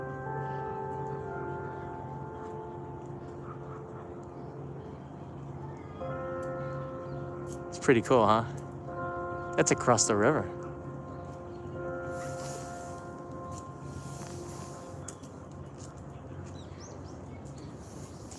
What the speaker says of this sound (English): That bell marks 5 o'clock, and usually it'll ring throughout the city.